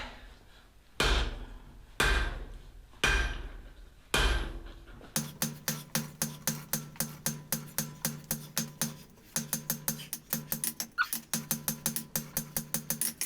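Four heavy hammer blows on hot S7 steel ring out at a slow, even pace, then a rapid series of lighter metallic strikes continues in a quick, steady rhythm.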